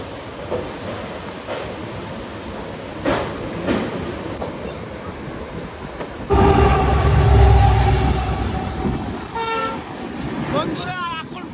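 The Kolkata Sairang Express (13125) pulls away from a single-track station after another train passes, rumbling and clattering louder from midway with a brief horn toot and wheel squeal, voices murmuring faintly in the background.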